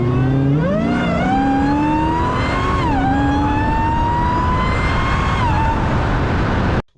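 Supercharged car engine revving hard with a rising, whining pitch that climbs steadily over several seconds, loud and close with continuous mechanical roar.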